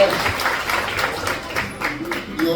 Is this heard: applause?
yes